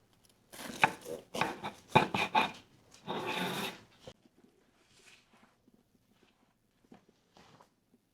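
A knife slices through a warm homemade Monte Cristo sandwich, giving a quick series of close, crisp cuts and scrapes over about four seconds, then near silence with a few faint taps.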